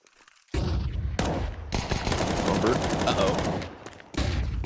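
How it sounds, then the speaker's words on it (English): Gunfire in a Counter-Strike match: a loud, dense burst of shots that runs for several seconds under faint crowd or caster noise, stops briefly, then starts again. "Fires off a bullet accidentally"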